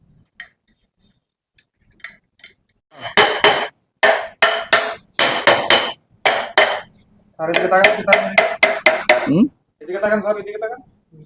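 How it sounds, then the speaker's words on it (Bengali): A metal rod strikes a jammed rotor on a 1 hp water pump motor in a run of loud, close metallic knocks, some in quick bursts, with ringing clanks near the end. "এই রড দিয়া এখানে বাড়ি দাও"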